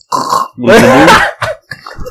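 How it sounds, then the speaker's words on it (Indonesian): A person lets out a loud, drawn-out burp after a short lead-in sound, followed by a couple of smaller bursts, close and alone in a quiet room. "Terus sendawa gede."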